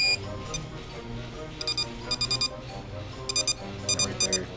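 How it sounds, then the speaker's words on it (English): Electronic stud finder and wiring detector buzzing, repeated short bursts of high beeping in an uneven rhythm over a low background hum. "Right there, that buzzer."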